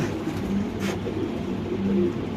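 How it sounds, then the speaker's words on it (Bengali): Black Mondain pigeons coo softly at a pigeon farm, a few low repeated calls over a steady background hum. "দেখেন মাশাল্লাহ ব্ল্যাক মন্ডিয়ান কবুতর"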